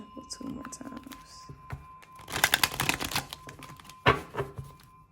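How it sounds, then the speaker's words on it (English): Tarot deck shuffled during a love reading, with a dense burst of crisp card riffling in the middle and a sharp slap near the end. Soft speech and small handling noises come before it. "Let's shuffle 2 more times."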